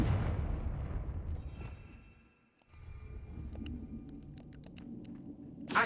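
A Confringo fire spell blasts in the Hogwarts Legacy fighting game, a heavy booming burst that decays over a couple of seconds, then rumbling combat noise with sharp clicks and another impact at the end.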